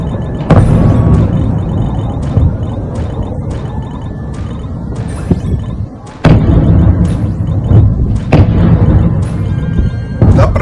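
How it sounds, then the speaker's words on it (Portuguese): Repeated explosions at ammunition depots in Melitopol, heard as several sharp loud booms and thuds spread across a rumbling, noisy background, with a couple of especially strong blasts near the middle and later on. "não sei se é um míssil chegando, se é munição explodindo e voando, mas dá para ver que tem várias explosões aqui"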